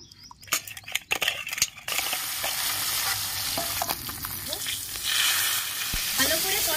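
Live pond bata fish in a spicy gravy with eggplant is stirred in a hot pan, a few scraping strokes giving way to a loud steady sizzle that swells again near the end, close up with no talk.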